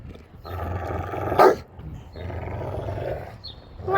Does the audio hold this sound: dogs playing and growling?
yes